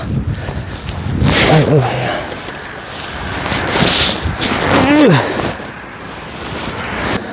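Strong wind buffets the microphone at a seaside seawall during a fishing outing, with a constant heavy rush and gusts rising and falling, while someone talks under the roar.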